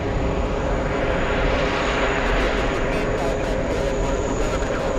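A British Airways Boeing 777 arriving at JFK from Heathrow, its jet engines producing a loud, steady, broadband roar that holds without a break throughout.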